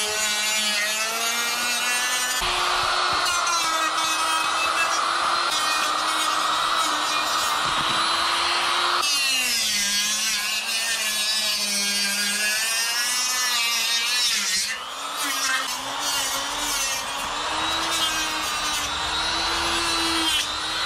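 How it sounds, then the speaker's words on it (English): A straight cutoff wheel grinds through cured carbon fiber and epoxy, a steady loud high-pitched whine that shifts pitch slightly as it bites, running continuously without talk. "what I'm gonna do is take this handy dandy cutoff wheel. I have a straight cutoff wheel."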